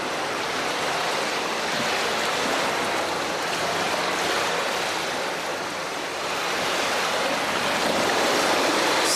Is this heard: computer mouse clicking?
no